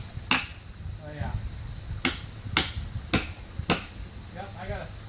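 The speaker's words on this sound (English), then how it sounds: "I gotta reposition my body so I can actually swing the hammer properly" A hammer strikes stakes while a deadfall wood bridge is built outdoors, five or six sharp, separate whacks at uneven intervals, close and loud, with brief voices in between.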